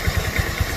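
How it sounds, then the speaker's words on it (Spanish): A motorcycle engine fitted with a vacuum carburetor idles while warmed up for carburetor synchronization, giving a steady low, pulsing thump at close range with no speech. "ahí la motocicleta tiene que apagarse, se detuvo la marcha"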